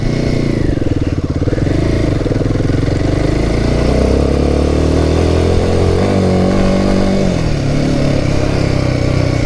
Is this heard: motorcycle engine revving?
yes